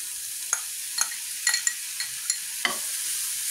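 Chicken being stirred with ground red chilli, crushed red pepper and black pepper in a pan: a soft sizzle underneath a handful of sparse scraping strokes, quiet overall.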